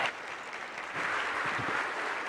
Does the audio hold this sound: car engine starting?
no